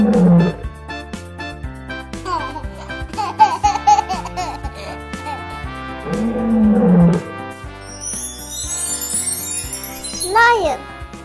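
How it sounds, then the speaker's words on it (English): A cartoonish lion roar sounds amid cheerful children's music, with playful roaring growls rising and falling over bouncy beats, and a voice and giggles mixed in. "Lion."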